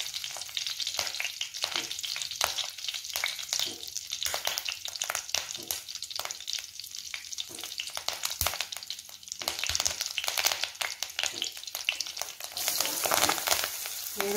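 Onions sizzling and frying in a hot pan while carrot paratha is being made, a steady crackling fry with occasional stirring scrapes, close and continuous throughout, with no talking.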